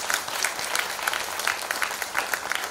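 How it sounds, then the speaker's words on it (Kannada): An audience at a church novena service claps, a dense patter of many hands that is moderately loud and steady throughout. "ಚಪ್ಪಾಳೆ ಕೊಡಿ ಪ್ರಿಯರೇ"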